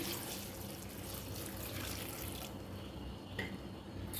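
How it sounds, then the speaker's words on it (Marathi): Water pours steadily into a cooking pot in a continuous splashing stream, close and fairly quiet, with no voices. "यामध्ये मी पाणी टाकून घेणार आहे"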